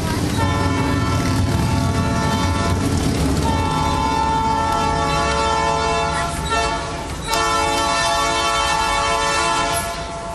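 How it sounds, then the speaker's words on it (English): A loud, sustained train horn blares on the Hawaiian Railway over the rumble of rolling rail cars, holding steady for several seconds with a brief dip near the end. "The engineer will notify us by a single short blast of the whistle."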